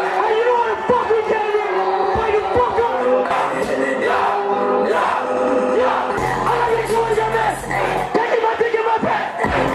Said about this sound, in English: the crowd is going nuts for it